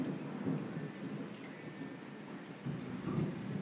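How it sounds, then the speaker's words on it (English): A low, continuous rumble of thunder rolling in the distance, with steady rain hissing over it and a swell near the end. "There's the thunder."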